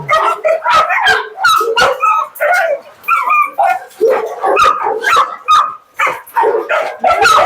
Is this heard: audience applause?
no